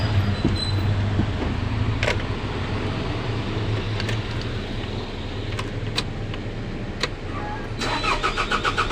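A Hino 300 truck's engine cranks steadily without catching, a continuous churning drone, loud and close, broken by a few sharp clicks and knocks and a faster rattling burst near the end.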